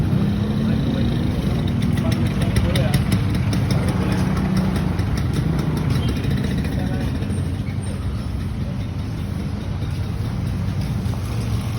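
A motorcycle engine idles steadily at close range while being parked at a school, with a constant rumbling drone, and faint voices may be mixed in beneath it.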